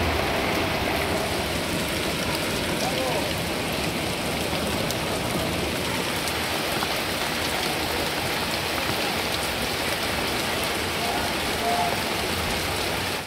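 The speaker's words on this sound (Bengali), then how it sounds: "আমরা বেরিয়েছি আর বৃষ্টি শুরু হয়ে গেছে।" Heavy rain pours down steadily outdoors during an evening festival outing, a dense, even wash of hiss and spatter that never lets up.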